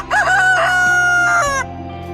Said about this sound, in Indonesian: Suara ayam membangunkan sang putri dari tidurnya